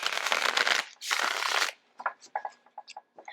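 Tarot cards being shuffled by hand, two long continuous riffling bursts followed by a string of short, separate card slaps and taps, close and fairly loud with no talking.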